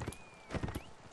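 Horse hooves clopping in Mount & Blade: Warband during a multiplayer battle, a few quick hoof thuds over game noise, with a whistling tone gliding through and a faint possible whinny.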